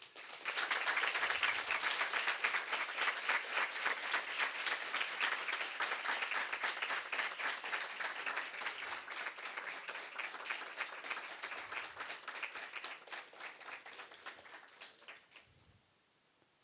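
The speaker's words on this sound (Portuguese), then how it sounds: "Gostaria que eles fossem recebidos com uma salva de palmas." A youth parliament audience gives a sustained round of applause for a Lei Seca road-safety team, dense clapping that stays loud for most of the stretch before tapering off into quiet at the end.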